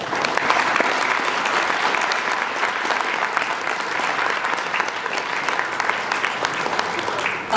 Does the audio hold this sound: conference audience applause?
yes